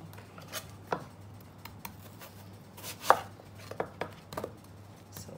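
A red onion being roughly chopped with a knife on a board, irregular crisp thuds spaced out over several seconds with a quiet steady hum underneath.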